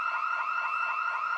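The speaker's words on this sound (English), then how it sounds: "This is exactly the same noise that the house alarms trigger" A house alarm in the Project Zomboid video game, a loud, steady electronic wail with a rapidly warbling pitch that sounds continuously, alone and up close.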